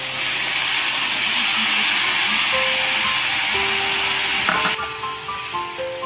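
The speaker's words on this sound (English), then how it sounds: "And now, we add the sauce." Hot Hong Kong–style fried noodles sizzle loudly in a pan as sauce is poured in, a steady broad hiss throughout with faint background music tones, easing slightly near the end.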